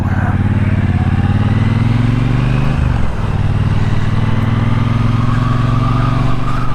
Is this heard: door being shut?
no